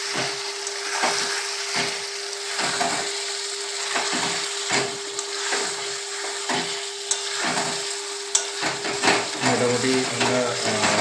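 Chicken pieces sizzle steadily in a pan over medium flame for a Bengali potato chicken curry, with regular scraping stirs every second or so close by.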